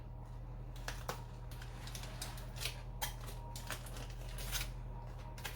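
Foil wrappers rustle and crinkle around freshly rested lemon pepper turkey legs, with several sharp crackling bursts against a steady low hum, close and moderately quiet.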